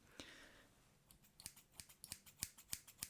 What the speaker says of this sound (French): Maintenant on va passer au ciseau tout simplement pour te désépaissir les cheveux et que ta coupe soit magnifique